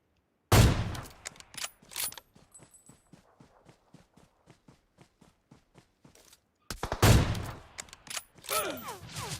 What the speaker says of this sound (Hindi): मेरे पे पड़ी है एक AWM, और यार मैं इस AWM से सिर्फ 3 गोली चलाऊंगा